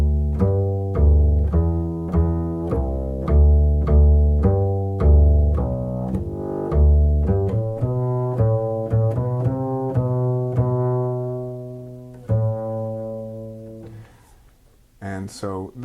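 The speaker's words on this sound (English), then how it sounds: "I want to play the first phrase of the Gigue as though everything were to be completely legato" The opening phrase of the Gigue from Bach's Suite I, played fully legato on a single melodic instrument, in a steady running line of connected notes that ends in a held tone and a short noise.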